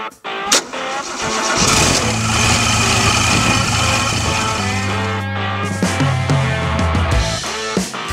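Supercharged engine in a Toyota FJ40 Land Cruiser cranks and starts loudly up close, then runs with a steady, rough mid-pitched idle and brief revs, no talking.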